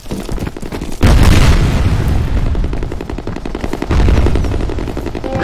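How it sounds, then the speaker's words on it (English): A grenade blast in the game F.E.A.R. during a Capture the Flag match on Combat Streets, with loud booming bursts at about one and four seconds over constant rapid in-game gunfire. "Grenade out!"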